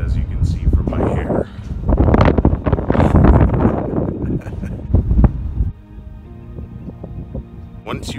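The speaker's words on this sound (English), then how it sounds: "Wind, as you can see from my hair." Wind gusting across a microphone on an outdoor trail near a tunnel, heavy low buffeting in uneven bursts that ease off toward the end, with a person talking over it.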